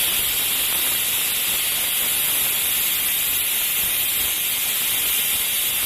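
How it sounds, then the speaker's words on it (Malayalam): A pressure cooker vents steam in a loud, unbroken hiss while prawn biryani cooks, filling the whole stretch at close range with a constant, rushing noise that never lets up. "ഒരു വിസിൽ വന്നിട്ടുണ്ട്."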